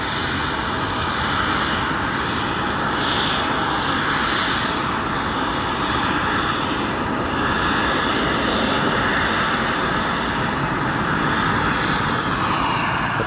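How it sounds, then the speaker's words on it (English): A Cargolux Boeing 747 heavy arriving at Chicago O'Hare from Anchorage, its engines a loud, steady broadband roar that holds nearly constant for the whole stretch, with no voices over it. "For now, we'll hold on our Cargolux 747. This heavy arriving from Anchorage after a flight time of 5 hours and 25"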